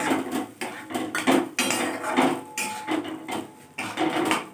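Clattering dishes and pans at a home kitchen counter while making Bengali chingri malaikari, a bowl rinsed and its water tipped into the pan, with repeated knocks and scrapes of metal and ceramic, close and moderate.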